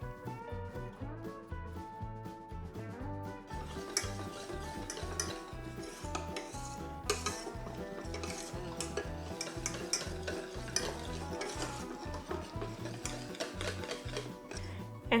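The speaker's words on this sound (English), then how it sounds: "we'll turn off the heat and whisk it until a nice smooth ganache is" Whisk stirring chocolate ganache in a pot on a turned-off stove, a steady, busy metallic scraping and clinking that runs continuously throughout without any talk.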